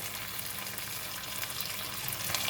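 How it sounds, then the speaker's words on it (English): Squid and chicken stir-frying in oil in a pan for tom yum fried rice, a steady loud sizzle with crackling spatter throughout, alone without talk. "we're going to continue to stir fry until the squid and the chicken is cooked"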